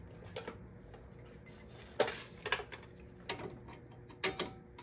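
A socket ratchet works on the brake caliper of a 2008 Ford Edge, giving a few separate bursts of metallic clicking and clanks amid quiet pauses, close and fairly soft.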